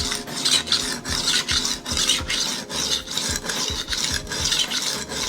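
Steel of a kitchen knife ground on a diamond stone with push-and-pull strokes, each scrape rising and falling in a regular rhythm, loud and close with no talking.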